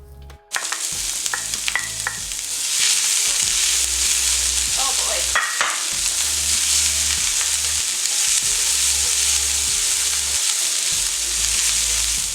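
Onions, garlic and ginger sear in a hot cast iron skillet for ginger beef fried rice, a loud steady sizzle with intermittent stirring and scraping clinks running continuously after a brief quiet start.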